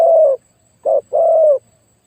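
A spotted dove used as a decoy bird coos loudly and close by: one drawn-out low note, a short pause, then a brief note followed by a longer one, with no one talking.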